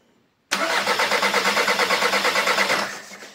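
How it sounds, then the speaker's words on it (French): A diesel VW Golf 6 TDI with a faulty injector cranks and fires up, a loud, rapid, steady rhythmic chugging that starts abruptly and runs for about two and a half seconds before fading, close by with no talking. "Voilà, on va essayer de la démarrer."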